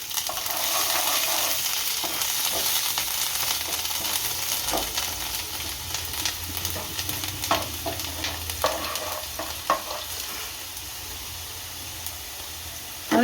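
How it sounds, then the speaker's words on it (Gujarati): Green chillies, cumin seeds and asafoetida sizzle and crackle steadily in hot oil as a spoon stirs them, with scattered sharp pops and scrapes over a continuous frying hiss. "આને હલાવી નાખશું।"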